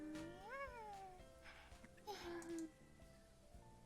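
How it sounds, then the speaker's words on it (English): A cat in the visual novel Re:Hoshi Ori Yume Mirai meows twice, with rising and falling drawn-out cries over quiet background music. "A cat."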